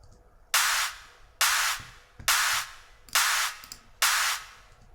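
Five bright, dry claps from a mixed music track without group effects, evenly spaced about once per second, each a sharp loud burst with a short decay.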